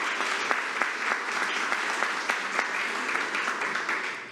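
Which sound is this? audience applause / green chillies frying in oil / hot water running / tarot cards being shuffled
audience applause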